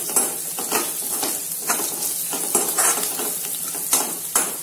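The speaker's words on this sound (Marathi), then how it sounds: "आता हे मसाले आपण छान परतून घ्यायचे तेलात" Spices fried and stirred in hot oil in a pan for besan capsicum, with a steady close sizzle and repeated scraping strokes of a spoon against the pan.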